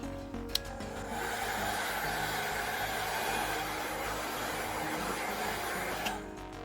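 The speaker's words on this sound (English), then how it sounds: "So once you got the red covers off, you warm it up a bit. I use a heat gun." A heat gun runs steadily at close range for about six seconds while warming trim for a Ford Mustang Mach-E door handle in a cold garage, a continuous blowing hiss with clicks at the start and end.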